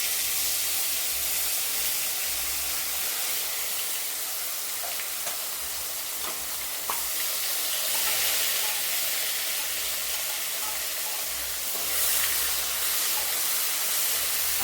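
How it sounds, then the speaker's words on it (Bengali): Onion, ginger and garlic paste frying in a pan gives a continuous close hiss and sizzle with faint crackles and spatters, steady throughout without talk. "এবার এর মধ্যে আমি এই পেঁয়াজ বাটা দেবো"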